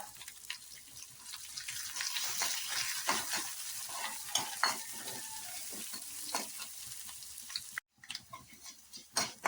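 Chopped small onions and curry leaves sizzle in hot oil for a Kerala-style moru curry, a close crackling hiss broken by frequent spatula scrapes and stirring clatter, with a brief drop-out near the end.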